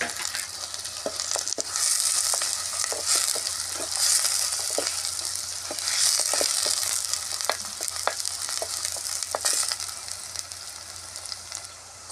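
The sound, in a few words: green chillies and curry leaves frying in oil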